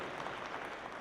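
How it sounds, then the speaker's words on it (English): Steady applause from a crowd at the Sunday opening ceremonies of a 2017 FIRST robotics district event in St. Joseph, a continuous, even wash of clapping throughout with no breaks. "Give yourselves a round of applause."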